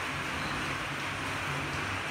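Rain falls outside, heard from indoors as a steady, even hiss that stays at the same level throughout, with no talking over it.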